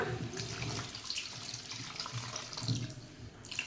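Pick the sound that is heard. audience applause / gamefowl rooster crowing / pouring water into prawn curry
pouring water into prawn curry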